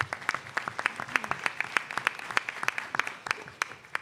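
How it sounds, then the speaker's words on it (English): A modest audience at a community forum on fentanyl and Narcan applauds the panelists with dense, steady clapping that stays at moderate volume for about four seconds. "Round of applause for our panelists."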